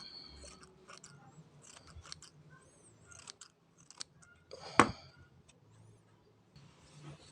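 Scissors snip and trim foam sponge for a headset microphone in a quiet room, with small scattered clicks and crunches and one sharper loud cut partway through.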